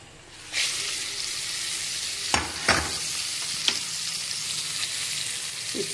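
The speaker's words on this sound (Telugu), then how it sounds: "సో ఈ పోపుని తీసి దీంట్లో వేసేస్తాను." Hot tempering poured into gongura and prawn-shell chutney gives a sudden loud sizzle that then keeps hissing steadily, with a few sharp clinks and stirring knocks and no talking.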